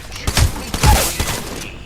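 Apex Legends gunfire: a quick volley of loud, close shots over a dense, noisy in-game background, about four punchy blasts in under two seconds.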